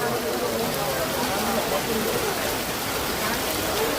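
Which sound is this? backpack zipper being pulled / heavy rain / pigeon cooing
heavy rain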